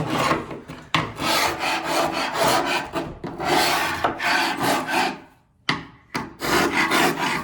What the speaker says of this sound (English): we're gonna use a triangle grout removal